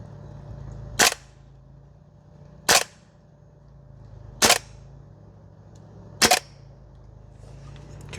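Four separate sharp reports from a SCAR L MWS gas blowback airsoft rifle on an outdoor range, each short and crisp, spaced about two seconds apart over a low background hum.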